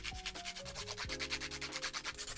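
A nail file rubs back and forth across acrylic nails in quick, rhythmic rasping strokes, about ten per second. The filing sounds close and quiet, with faint music underneath.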